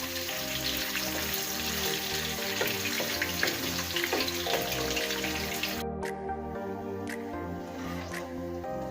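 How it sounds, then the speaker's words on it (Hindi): Medium-sized onions fry in oil until light brown, giving a dense, continuous crackling sizzle close up, with the bright spitting easing off partway through while a softer bubbling continues. "प्याज को हमने लाइट ब्राउन करना है।"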